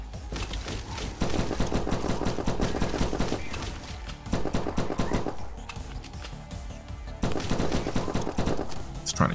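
Uzi gunfire in the game From Space, repeated bursts of rapid, loud automatic shots separated by short pauses, with a voice talking faintly in places.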